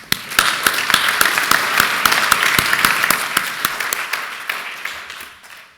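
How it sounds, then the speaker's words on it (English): An audience at the APNIC annual general meeting gives a dense round of applause, many hands clapping loudly and steadily before thinning out at the end. "So let's give them a round of applause."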